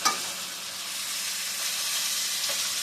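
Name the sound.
stirring chicken cutlets frying in a skillet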